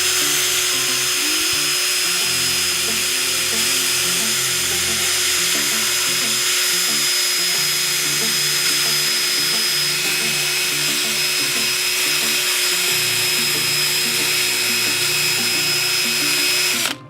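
A small abrasive power tool strips paint from the alloy engine of a Kawasaki Vulcan VN800, giving a loud, close, continuous high-pitched whine with a rough grinding undertone that holds steady throughout before cutting off at the end.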